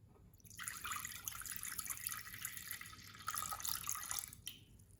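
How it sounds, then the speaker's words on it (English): Stock is poured into a pot as the first step of a seafood chowder, a steady splashing stream of liquid that starts after a short pause, runs for several seconds, briefly dips midway, then tapers off near the end. "First off, you pour the stock in."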